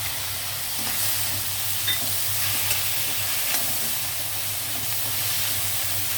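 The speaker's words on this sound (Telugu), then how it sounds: "ఈ కూరగాయ ముక్కలు కొంచెం మగ్గాయి కదా ఈ టైంలో క్యారెట్ ముక్కలు వేసేద్దాం" Chopped vegetables and carrot pieces frying in a pan for millet khichdi, a steady close sizzling hiss with faint occasional stirring scrapes, no talk.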